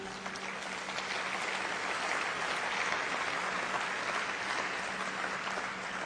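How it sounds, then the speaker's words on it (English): Steady applause from an audience at a microcredit summit fills the whole stretch, dense and even, with no voices rising above it. "that, I think, is worth an applaud."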